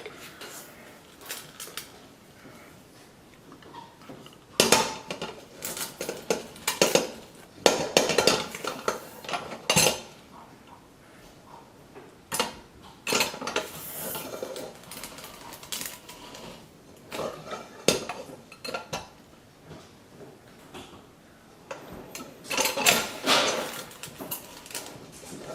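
Drained boiled potatoes for pierogi filling are pressed through a ricer in a kitchen, giving irregular clanks, metallic scrapes and knocks of utensils against a bowl, close and intermittent amid quiet pauses.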